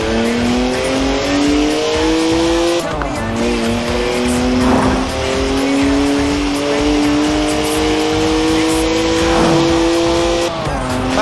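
A twin-turbo 3-litre straight-six car of 335 horsepower drifts sideways in Forza Horizon 4, its loud close engine note climbing steadily in pitch under a constant tyre squeal, with a short gear-change dip partway through.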